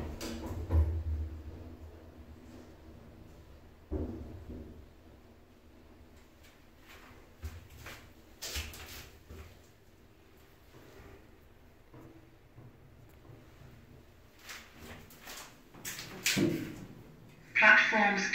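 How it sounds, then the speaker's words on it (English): Lift at Kettering station platforms 2 and 3, its doors closing with a few dull thumps and clunks, then a low steady hum and rumble of the car moving, with an automated voice speaking announcements. "Stand clear, doors closing."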